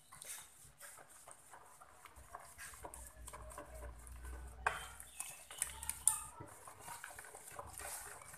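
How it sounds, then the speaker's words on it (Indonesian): Batter of leek and milk being stirred in a bowl, with soft scraping and clinking of utensil against the dish in irregular, faint strokes, growing busier and sharper toward the end. "Aduk sampai semua adonan tercampur ya."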